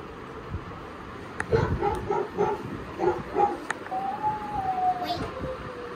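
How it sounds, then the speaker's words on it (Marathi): A few short dog barks played by an Alexa smart speaker come in quick succession, followed by a rising electronic tone, all fairly faint over a steady background hiss. "Alexa play dog sound"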